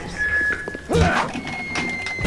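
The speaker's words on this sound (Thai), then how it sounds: "มันปาระเบิดมา" In BioShock, a grenade lands with a solid thunk amid busy game sound effects, with a brief burst of clatter around it and a steady electronic tone in the background.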